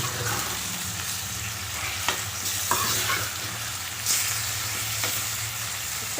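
Chicken pieces for biryani frying in hot oil, a steady dense sizzle with occasional stirring clinks and scrapes, close and fairly quiet, no talk.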